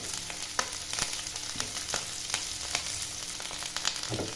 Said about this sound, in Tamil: நல்லா இதெல்லாம் வதக்கிக்கலாம்